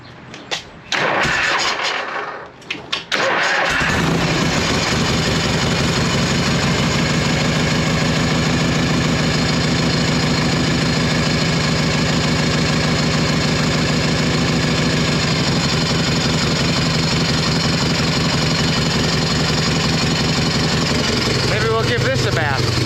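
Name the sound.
'78 FLH Shovelhead motorcycle engine starting up and idling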